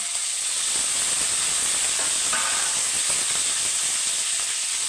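Small shallots sautéing in a pan with garlic and ginger for a country chicken curry, a steady close hissing sizzle that holds level throughout, with no voices.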